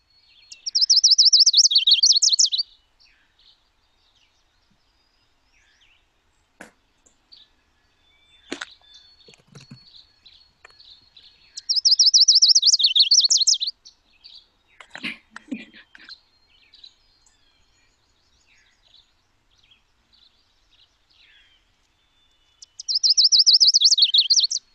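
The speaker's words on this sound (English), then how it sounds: "So that one was the chestnut-sided warbler." Three bursts of a bright, high warbling chestnut-sided warbler song repeat about ten seconds apart, with quiet gaps and faint clicks and soft voices between.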